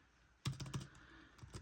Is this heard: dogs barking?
no